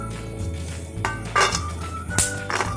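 Roasted coconut being moved from a pan onto a plate, a few distinct clinks and scrapes of metal against cookware, close and clear over a low background hum.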